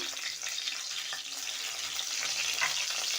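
Onion and green chili frying in hot oil in a wok for chowmein, a dense, continuous close sizzle holding steady throughout with faint stirring beneath.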